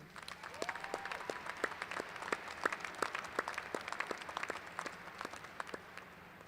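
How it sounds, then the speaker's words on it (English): Applause from a crowd at a graduate school commencement, many hands clapping steadily at a moderate distance, fairly quiet and continuous without voices. "Let's applaud one more time."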